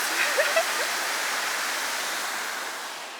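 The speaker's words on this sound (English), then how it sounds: "There's a waterfall and the fall colors." Steady roar of a waterfall in Ryuokyo Canyon, Tochigi, Japan, a constant broadband rush with a few faint brief voices near the start, holding loud throughout.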